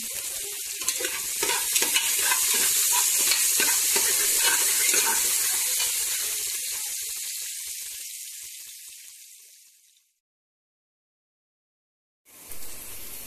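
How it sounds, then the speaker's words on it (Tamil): Onions fry in a pan for nonbu kanji, a home-style Tamil dish. A loud, busy sizzle carries rapid stirring scrapes, then fades away into a brief silence before the sizzling briefly returns. "ஆனியன் நல்லா உங்களுக்கு ப்ரௌன் ஆகிற வரைக்கும் நம்ம இப்போது அதை வந்து ஃப்ரை பண்ண போகிறோம்"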